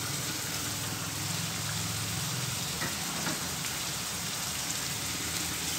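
Tomatoes frying in a mutton karahi, a steady broad sizzle like rain on a hot pan, continuous and moderately loud with a few faint clinks, no talking.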